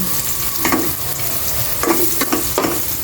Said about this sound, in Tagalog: umuusok na po itong kaserolang may mantika